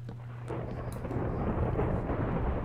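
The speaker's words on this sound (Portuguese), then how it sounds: "Meu Deus, calma, um trovão ali." A deep rolling thunder rumble in the video game Minecraft builds after a brief onset and sustains as a broad, heavy roar for a few seconds, loud and close.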